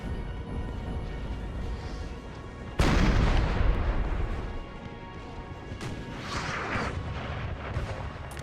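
A heavy artillery boom and crash in Napoleon: Total War lands suddenly partway through, followed by a rumbling, decaying roar over steady battlefield ambience, with no talk.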